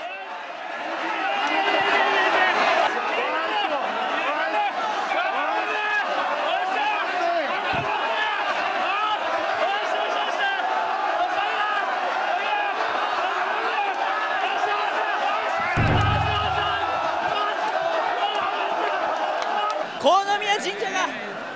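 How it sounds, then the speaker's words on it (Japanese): A large crowd at the Konomiya naked festival in a Japanese shrine roars and applauds continuously, a dense steady wall of cheering and chatter with occasional sharper bursts. "神社が大きく盛り上がっております。 拍手喝采です。"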